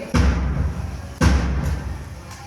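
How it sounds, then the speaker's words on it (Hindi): Two heavy, booming thuds about a second apart, each with a deep low rumble that lingers and fades, like distant cannon shots. "तोपों की आवाज?"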